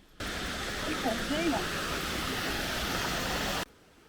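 A modest waterfall at a hidden spot in northern Thailand gives off a steady broadband rush of falling water that runs unbroken for about three seconds, with faint voices of people nearby beneath it.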